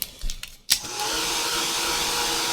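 A hair dryer switches on after a few soft clicks and blows steadily, close by, over wet ink on an art journal page, with no talking.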